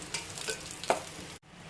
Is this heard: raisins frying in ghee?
yes